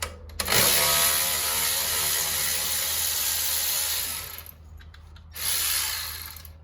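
Power tool or ratchet work on a 10 mm strut bolt of a 2010 Toyota Sequoia SR5: a loud, continuous whirring run of about four seconds, a brief pause, then another short burst.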